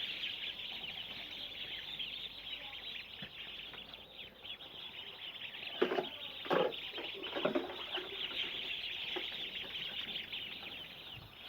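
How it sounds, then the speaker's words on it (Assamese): A flock of 15-day-old Khaki Campbell ducklings on an Assam duck farm fills the air with a continuous, fairly quiet chorus of high peeping, with a few louder bursts around the middle and no talking. "এয়া আমাৰ 15 দিনৰ পোৱালি।"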